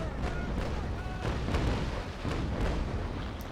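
A sailing warship's cannon broadside in the naval combat game Naval Action Legends: a run of deep, overlapping booms rolling across several seconds at steady loudness, with some speech mixed in.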